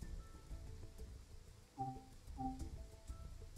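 Summer rain in the Train Sim World video game makes a faint, steady patter on surfaces. A few soft tonal blips come through near the middle.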